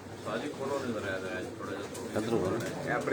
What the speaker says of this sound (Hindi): ब्रीडर कबूतर ने जी उस्ताद मलक आबदवान साहब